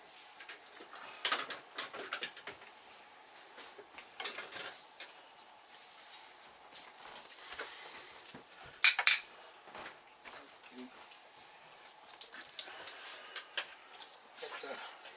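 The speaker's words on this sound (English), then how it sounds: "Can I get a pair of tongs" Metal tongs clink and scrape against a pan holding a roast Christmas turkey stuffed with ham, in scattered light taps with one sharper clatter, amid quiet kitchen movement.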